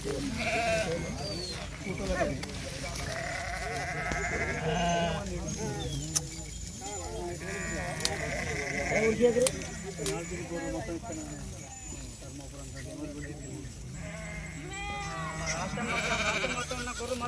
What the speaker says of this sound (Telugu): గొర్రెలు మొత్తం